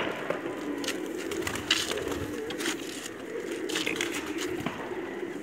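Pigeons at a home pigeon loft murmur and coo in low, soft bursts, with faint flutters and scuffs under a steady background hum.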